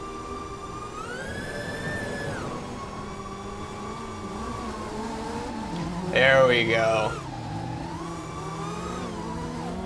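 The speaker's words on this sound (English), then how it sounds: "Chasing a drifting rally car in the sim." Rally car engine in the Tryp FPV drone simulator game, a sustained whining drone with pitch rising and falling as the car revs and drifts, a brief louder burst midway, and someone speaking briefly.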